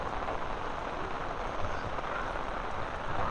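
Heavy rain falls over open fields in Jaffna, a dense, even hiss holding steady and unbroken with no voices.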